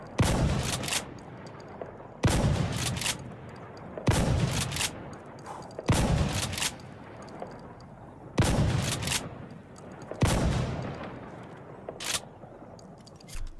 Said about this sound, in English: Now let's test the slugs at medium distance.